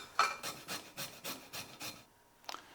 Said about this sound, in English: So I'm just going to use my microplane.